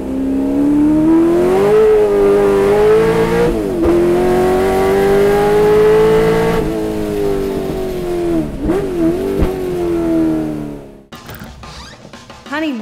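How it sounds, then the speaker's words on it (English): A vintage race car accelerating hard on a track, a loud, close engine roar climbing through the revs in a long sustained pull, easing and rising again, with someone talking over it near the end. "You just step on the throttle and she just wants to light up the tyres"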